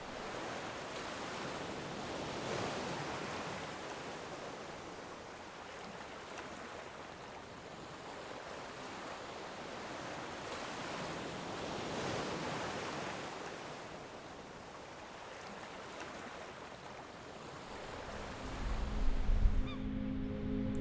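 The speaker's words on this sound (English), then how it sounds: "letting the sound of the waves sing us to sleep" Ocean waves washing onto the shore of Worm's Head, a wild uninhabited island in Wales, at night; a steady broad surf roar swells and recedes in slow cycles, with a brief louder rustle near the end.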